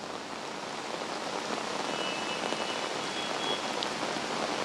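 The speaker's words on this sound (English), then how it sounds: "it has been heavily raining, across Delhi-NCR region from late night itself" Heavy rain falls across the Delhi-NCR region, a dense steady hiss of drops drumming on surfaces, loud and unbroken throughout with no voices.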